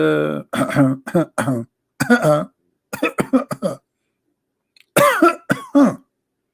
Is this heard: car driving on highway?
no